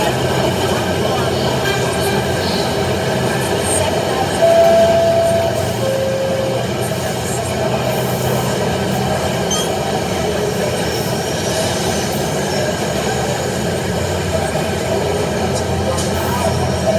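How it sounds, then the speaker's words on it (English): A New York City MTA R160 subway train on the D express toward Washington Heights–168th Street, a loud continuous rumble of wheels and car noise with a couple of brief squealing tones near the middle. "This is a Washington Heights 168th Street bound D express train."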